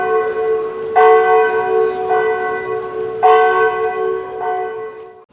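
Church bells ring at a cathedral in Serbia, several loud, resonant strikes spaced about a second apart with long humming tones sustaining between them, heard outdoors without talk.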